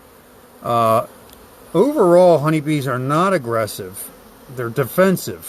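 A swarm of honeybees buzzes steadily while someone talks over the hum.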